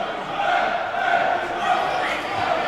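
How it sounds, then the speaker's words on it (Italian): Futsal supporters chant together in the stands of a Serie A futsal arena, a steady, dense wall of massed voices heard at a distance, sustained without a break. "Intanto cantano i tifosi"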